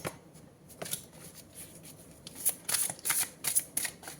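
A large deck of tarot cards is shuffled close up, with soft riffling bursts that grow into quick, crisp flutters and slaps in the second half.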